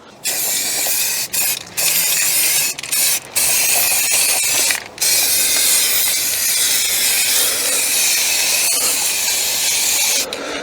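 A spray gun lays a third coat of paint on a Ford Fiesta Mk6 part: loud, close hissing bursts, several short passes with brief gaps, then one long continuous spray.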